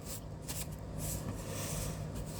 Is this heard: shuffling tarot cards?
yes